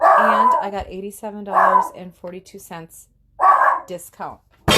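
A dog barks loudly and close by several times in sharp bursts, mixed with a person talking.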